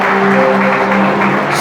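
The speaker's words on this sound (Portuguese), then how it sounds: "Só aplauda se quiser." Brief burst of congregation applause in a church, dense steady clapping from many hands at moderate loudness, with some crowd noise underneath.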